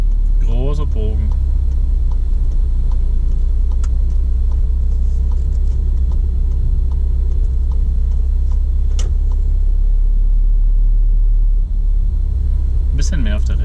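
A car driving through town during a German driving lesson, its engine and road noise rumbling steadily throughout, with an instructor talking over the drive.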